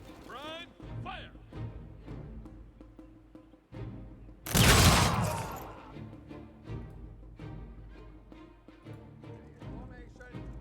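A unit volley in the strategy game Humankind cracks out as one sharp burst of massed gunfire midway, amid game voices, ambient sounds and spoken commentary.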